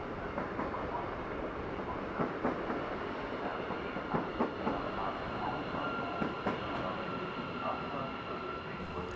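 A train rolls through Donauwörth station on track 4, a steady rumble with rhythmic wheel clatter over rail joints and faint squeal, heard alone at moderate distance.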